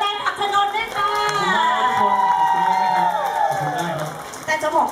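Fan club crowd at a Stars on Stage event in Future Park Rangsit cheering and shouting for a singer, a loud sustained roar of voices and whoops with clapping underneath, fading slightly near the end.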